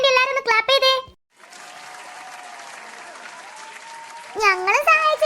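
A crowd of adults and children claps steadily in sustained applause for three kids who made a floral pookalam at an Onam celebration, with bursts of talk before and after.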